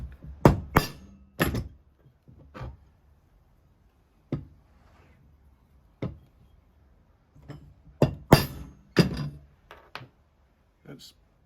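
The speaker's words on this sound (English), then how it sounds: "Mark it with your centre punch" A hammer strikes a centre punch to mark metal for an exhaust clamp in a workshop, giving several sharp, close metallic taps in small clusters with quiet gaps between them.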